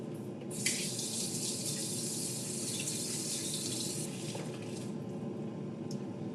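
Water runs from a kitchen tap while food is washed under it, a steady close splashing rush that starts abruptly, shifts slightly as the stream hits the food, then tapers off near the end.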